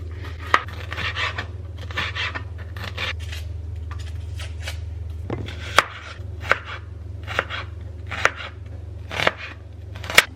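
Knife chopping onions and red and yellow peppers for fajitas on a cutting board, a close, irregular series of sharp chops over a steady low hum.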